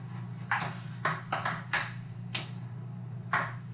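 Bright pings ring out in an irregular beat, about seven sharp metallic hits over a few seconds above a steady low hum, their rhythm resembling Mario video game music.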